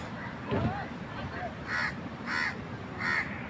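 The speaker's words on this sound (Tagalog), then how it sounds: "Maingay yung ibon." Harsh bird calls repeat three times at a steady pace over a constant outdoor din among many trees in Singapore, with a brief voice near the start.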